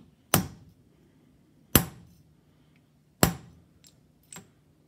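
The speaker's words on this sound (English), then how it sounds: "you notice I am using a larger hammer this time because this is forming" Four sharp, ringing hammer blows on metal using a larger forming hammer, struck at slow, even intervals of about a second and a half, the last one lighter, with quiet room tone between strikes.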